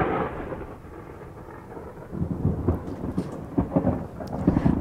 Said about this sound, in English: The storm broke just after Bess got Sue into bed